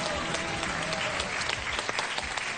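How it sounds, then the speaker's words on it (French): A French TV game show studio audience applauds contestants Marie-Jeanne and Paul, dense steady clapping filling the room throughout. "on applaudit Marie-Jeanne et Paul"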